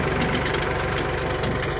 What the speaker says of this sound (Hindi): यहाँ पे देखो कैसा देसी जुगाड़ लगा के ट्रैक्टर से पानी निकाल रहे